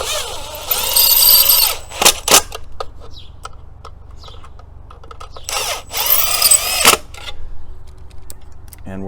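A power drill drives screws into a wall to mount an EV charger cable holster, two long whirring bursts with short blips between, loud and close, separated by quiet handling noises.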